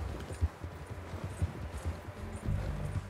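In the Red Dead Redemption 2 video game, a horse's hooves pound in a quick, regular galloping rhythm, close and moderately loud, with a faint background hum.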